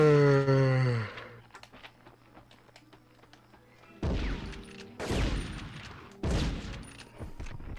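Bursts of light machine gun fire in the Medal of Honor video game, three loud rapid volleys in the second half after a quieter stretch of distant scattered shots, preceded by a brief rising tone.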